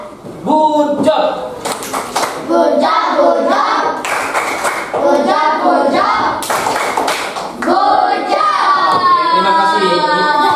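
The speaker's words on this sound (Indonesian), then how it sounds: "Tepuk tangan buat kelompok 5." Schoolchildren in a fifth-grade classroom clap together for a presenting group, a dense burst of claps that keeps going for several seconds in a loud, close room.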